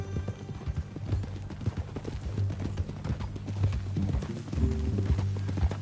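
Horse hooves clip-clop in the video game Red Dead Redemption 2, a steady rhythmic walking beat of close, dull knocks that carries on throughout with no talking.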